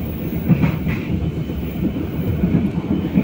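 Steady rumble inside a moving business-class carriage of Indonesia's Logawa passenger train, wheels clacking rhythmically over the rails, with no voices.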